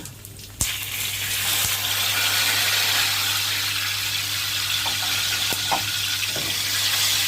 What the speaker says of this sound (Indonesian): Tumis serainya hingga harum sambil diaduk-aduk.